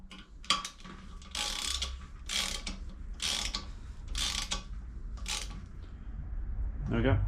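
Ratchet clicking in short bursts while tightening M6 Torx bolts on the rear brakes and hubs of a Land Rover Discovery 3, several close, loud runs of rapid ratcheting separated by brief pauses in a workshop.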